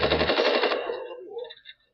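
A rapid burst of gunfire in the Far Cry video game, a close, loud rattle lasting under a second that cuts off abruptly and leaves a short fading tail.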